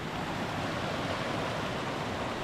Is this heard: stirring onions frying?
no